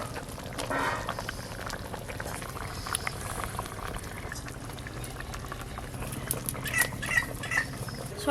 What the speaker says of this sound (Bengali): ঝোল তো একদম টকবকে হয়ে ফুটে গেছে।